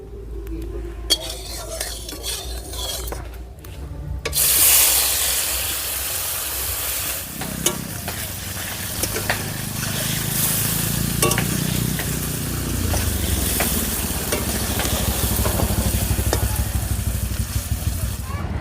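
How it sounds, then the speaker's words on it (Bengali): Steady sizzling of paneer pieces frying in hot oil in a kadai, loud and continuous, with occasional scrapes and clinks of a utensil in the pan. "পনিরগুলো ভেজে নেবো"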